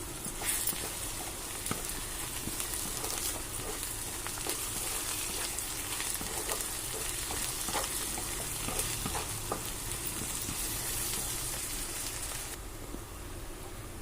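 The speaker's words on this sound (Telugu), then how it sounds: "ఆనియన్స్లోనే అల్లం వెల్లుల్లి పేస్ట్ వేసుకుని ఫ్రై చేసుకుంటే నీసు వాసన పోతుంది" Onions fry with ginger-garlic paste in hot oil for a crab and brinjal curry, giving a steady, close, dense sizzle that runs unbroken from start to finish, with no talking.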